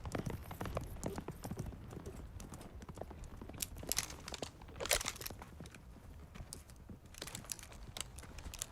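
Horse hooves clip-clop at a quiet, fairly distant level, with irregular crisp knocks and crunches spread unevenly over several seconds against faint ambient noise.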